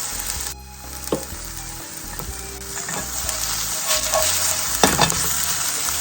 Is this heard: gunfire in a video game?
no